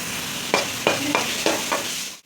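Small shallots sautéing in oil for a mutton bread bonda filling, a steady sizzle broken by several sharp scraping stirs of a spoon at regular intervals, close and clear with no talking.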